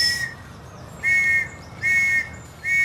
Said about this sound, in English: whistles pierced the air, the sound that a century ago directed soldiers over the top